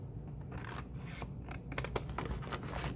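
Scissors snip through the card of a paper lake-freighter model piece, a run of quiet crisp cuts and paper rustling, close by with one sharper click near the end.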